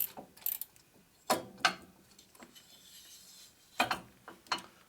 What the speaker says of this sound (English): I'll put all the bolts back in it.